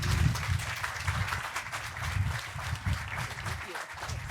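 Audience applause welcoming Supervisor Bill Cerna at the Grow Florin opening, a steady crowd clapping with no voices on top, holding at an even level from start to finish.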